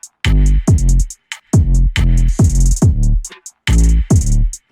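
Percussion hits layered into a trap beat, short crisp accents between hi-hats over deep booming 808 notes, loud and upfront with no talking.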